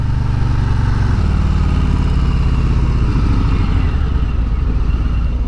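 A 2018 Harley-Davidson Street Bob motorcycle engine running nearby, a loud, steady low rumble with a throbbing pulse that shifts in pitch slightly as the revs change.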